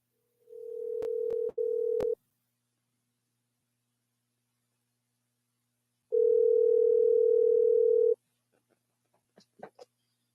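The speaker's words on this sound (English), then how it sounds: "We're going to try to dial up Max McLaughlin." A steady telephone dial tone hums loudly, broken by a few dialing clicks early on, then goes quiet and returns for about two seconds before faint ringing or line noise at the end.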